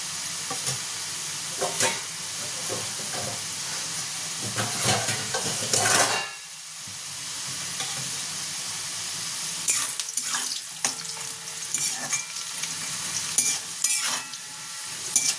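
Potatoes frying in a pan for a chichinge and prawn dish, a loud, steady sizzle with scraping and clattering as they are stirred. The sizzle briefly drops midway, then resumes with sharper clinks.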